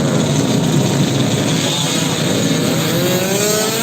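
Motorcycles at a drag bike race on a straight 201-metre timed strip at Lanud Sim, Aceh, roar loudly and steadily throughout, with a high revving engine whine sweeping across the near field.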